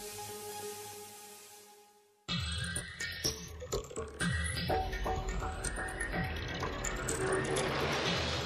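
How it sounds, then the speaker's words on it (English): Automated zipper-making machines installing the remaining components, a steady loud mechanical clatter of rapid ratcheting and clicking parts that kicks in suddenly after a quieter hum. "Then automated machines install the remaining components."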